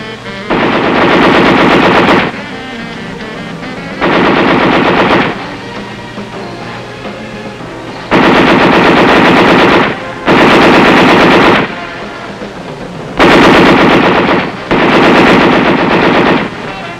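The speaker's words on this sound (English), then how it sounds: "one more weapon I want to tell you about, Dad, the 50 caliber machine gun" A .50 caliber heavy machine gun firing in long sustained bursts, loud and close, with brief pauses between volleys and a low rumble underneath.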